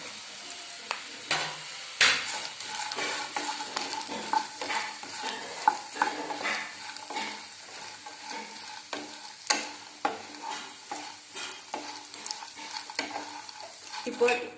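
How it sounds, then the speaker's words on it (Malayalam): Sun-dried bitter gourd frying in hot oil, a continuous bright sizzle broken by frequent scraping and clinking stirs against the pan, close and loud throughout. "വെയിലത്ത് വെച്ച് ഉണക്കിയെടുത്ത പാവയ്ക്ക വറക്കുവാൻ ഇടുകയാണ്."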